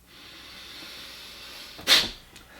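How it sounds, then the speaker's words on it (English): A single sharp, hissing exhale, close to the mic, breaks a quiet background during a synchronized breathing exercise with a Vogel-cut crystal. "We're synchronizing our breathing."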